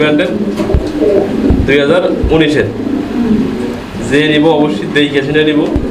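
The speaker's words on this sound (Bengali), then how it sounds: "সরাসরি ইম্পোর্টেড লাহোরি কবুতর আপনারা সংগ্রহ করতে পারবেন" Imported Lahori pigeons, including a 2019 pair of the Dabli breed, give repeated soft coos close by while someone talks loudly over them.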